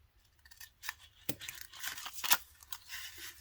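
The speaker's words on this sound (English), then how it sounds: "I'm going to cut a slit here" Scissors snipping a slit into paper for a junk journal pocket: a few close, quiet crisp cuts with light paper rustling in between.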